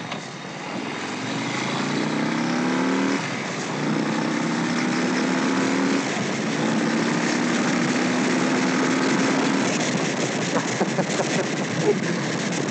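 A 2021 Harley-Davidson Street Bob on its stock exhaust pulls hard off the line, a loud, close engine drone climbing in pitch through several rising sweeps with shifts between them, steady and continuous throughout.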